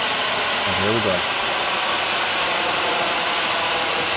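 Steady, loud, roaring whine of the jet engine on a large RC Harrier VTOL model aircraft running at high power, continuous and close, with a brief voice heard faintly under it.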